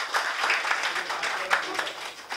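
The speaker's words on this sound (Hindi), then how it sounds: "एक बार और तालियों से इस्तकबाल कीजिए" Audience at a book release and discussion event clapping to welcome a speaker: a short burst of moderate applause with faint voices mixed in.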